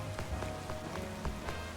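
Rain falls in Pokemon Legends Z-A, a steady hiss of drops with a regular series of soft patters and light thumps running through it, faint and with no voices.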